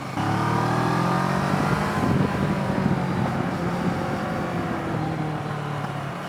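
A Kawasaki ER6N 650 motorcycle engine pulls with a throaty airbox intake note, heard up close as the rider accelerates. The steady, droning hum swells and then eases slightly, with no speech.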